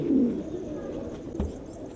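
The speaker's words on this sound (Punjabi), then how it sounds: "ਬਹੁਤ ਵਧੀਆ ਕਬੂਤਰ ਆ" Low, soft pigeon cooing murmurs through a noisy outdoor background at a pigeon fanciers' place in Talwandi, strongest at the start, with a brief thump partway through.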